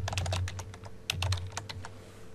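Quick bursts of key clicks come from a computer keyboard as a title is typed in, close and clear over a low hum, in two short runs.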